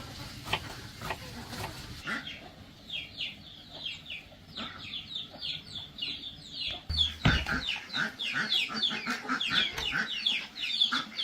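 Chickens cluck steadily in a busy, close flock as they and ducks are fed corn, with short repeated calls overlapping throughout and growing louder toward the end.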